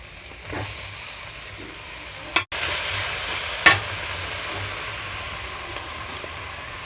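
Three small tomatoes sautéed with broiler chicken pieces in a pan, a constant sizzle with spatula stirring scrapes and a couple of sharp knocks, one brief dropout midway, no voices.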